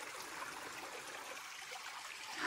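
A creek flowing beside a garden after rain, a steady gentle rush and trickle of water heard fairly close and continuous, without talk.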